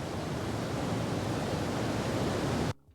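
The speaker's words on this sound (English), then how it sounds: "The waterfall gets louder" A steady, loud broadband roar of rushing water from a waterfall holds at an even level for nearly three seconds, then cuts off abruptly into near silence.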